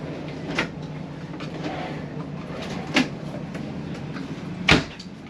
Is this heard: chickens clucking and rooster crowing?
no